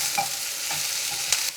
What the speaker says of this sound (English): I'm also going to add a few good fresh curry leaves